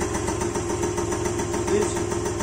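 A scooter engine catches and settles into a steady, buzzing idle close by, running evenly after a fresh spark plug is fitted.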